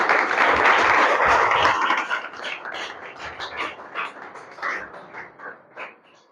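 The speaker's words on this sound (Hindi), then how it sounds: "अपने लिए ताली बजाओ।" Listeners at a motivational talk clap for themselves, a brief burst of loud, dense clapping that breaks up after two seconds into scattered, fading individual claps.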